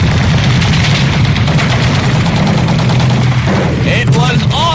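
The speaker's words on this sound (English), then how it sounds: "My God, it sounds like it's an artillery barrage! Artillery barrage!" An artillery barrage and gunfire sound effect, a dense and loud rumbling roar of continuous blasts and shots, with a few sharp higher cracks near the end.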